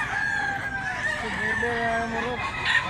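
A five-year-old rooster crows one drawn-out call nearby, with some clucking around it and faint background voices.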